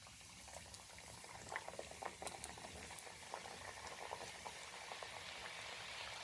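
Shankarpoli made from chiroti rava and wheat flour dough, cut into pieces and deep-frying in hot oil, gives a dense, steady bubbling sizzle with scattered crackles and pops, fairly close and with no talk over it.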